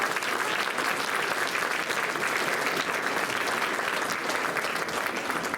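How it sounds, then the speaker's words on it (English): Dense, sustained applause fills the hall from the audience at a 2024 JHS spring band concert, an even, unbroken roar of many hands clapping at constant loudness with no voices on top. "Let's give everyone a round of applause."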